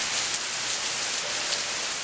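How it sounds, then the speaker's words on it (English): Steady rain falls at the start of Hurricane Isaac in Arkansas, an even, close hiss of drops hitting surfaces with no pauses. "The very beginning of Hurricane Isaac. But we sure need the rain"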